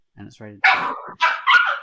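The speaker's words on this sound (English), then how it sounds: "That sound was made by little puppies" Small puppies bark and yip in a few sharp bursts, close and fairly loud, with a brief spoken phrase at the start.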